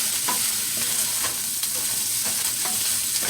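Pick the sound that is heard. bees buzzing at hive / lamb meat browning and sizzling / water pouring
lamb meat browning and sizzling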